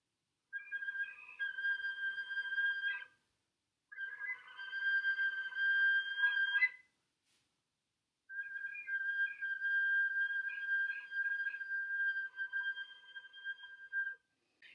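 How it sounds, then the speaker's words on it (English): Three sustained, thin whistle tones played on a flute-like instrument, each held for a few seconds with brief silences between, clear and alone. "In order to play a whistle tone, you're going to bring your lips really far forward."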